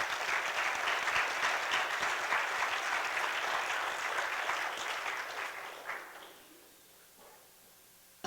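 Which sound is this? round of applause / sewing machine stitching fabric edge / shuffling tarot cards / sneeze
round of applause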